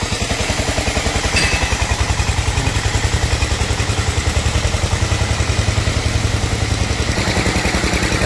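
An engine-driven water pump at a floating dock for repairing steel barges and sand-pumping boats in Vietnam chugs in a loud, rapid, steady rhythm with metallic clatter, close by and unbroken.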